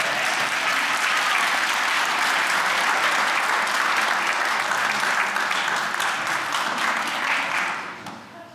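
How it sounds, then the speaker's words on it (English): A packed audience gives sustained, dense applause at a Doctor of Pharmacy white coat ceremony. The clapping stays loud and even throughout, then tapers off at the very end. "I think we should give her a round of applause."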